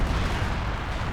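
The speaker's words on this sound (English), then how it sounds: "Howitzer." Howitzer artillery fire in Company of Heroes 2, a dense, heavy rumbling blast filling the whole moment, loud and low with no voices over it.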